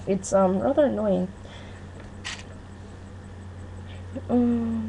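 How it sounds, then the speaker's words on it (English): A brother whistles somewhere in the room, a faint steady tone behind a person speaking close by, with brief breathy bursts between the words. "You can probably hear my brother whistling right now."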